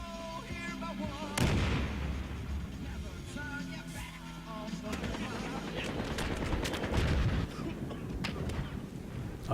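Loud grenade blasts and bursts of gunfire in the video game Battlefield Hardline during a heist mission, with a sharp boom early on and dense shooting throughout, under excited talk.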